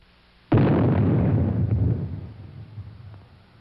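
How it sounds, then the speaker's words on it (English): A low-burst nuclear test shot fired from the Army's 280-millimeter gun in the 1950s: a single sudden blast followed by a long, deep rumble that fades slowly over a few seconds. "The Army's 280-millimeter gun."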